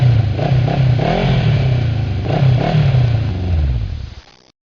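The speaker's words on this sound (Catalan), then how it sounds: "moto," A motorcycle engine revs loudly and close by in repeated rising and falling bursts, then cuts off abruptly near the end.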